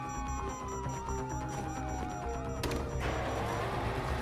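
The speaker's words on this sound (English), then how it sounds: "Hear that? Sirens!" Police sirens wailing in Grand Theft Auto V, several rising and falling tones sounding together over game engine noise, followed by a sharp crash and continued din, with no talking.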